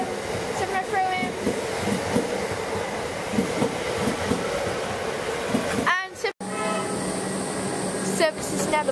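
Metropolitan train pulling out of Seddon station: a steady rumble of rolling railcars with rhythmic wheel clatter, wheel squeal near the end and a sharp brief whoosh, heard close from aboard or beside the train.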